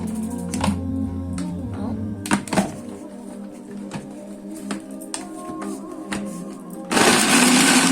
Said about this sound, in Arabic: هضرب البصل والثوم